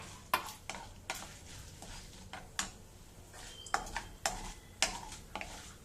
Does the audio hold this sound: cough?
no